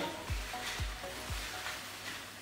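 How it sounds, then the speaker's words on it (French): Chopped onions and bacon lardons fry in a pan with a steady broadband hiss, punctuated by three soft low thumps in an even rhythm. "Je vais mettre dans le but étant de faire revenir un petit peu les oignons et les lardons"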